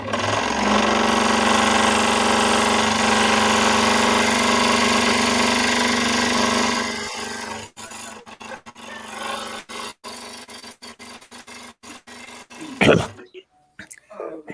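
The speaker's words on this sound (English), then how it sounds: "Cutting aluminum." A power tool cuts through aluminum with a loud, steady whine for several seconds, then winds down into scattered clanks and handling noises.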